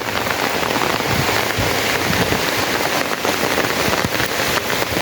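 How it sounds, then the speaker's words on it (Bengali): Heavy rain pours down steadily over a village, a dense, continuous hiss of drops drumming on surfaces, close and loud from start to finish with no voices. "আজ কিন্তু বৃষ্টি হচ্ছে এই যে দেখতেই পাচ্ছেন প্রচুর বৃষ্টি হচ্ছে"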